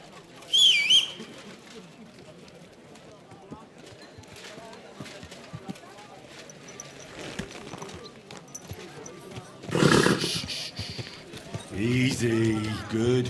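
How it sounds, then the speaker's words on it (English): Horse hooves clopping in Kingdom Come: Deliverance 2, a soft rhythmic patter with a brief neigh-like burst and louder rustle late on, under someone talking. "Easy, good horse."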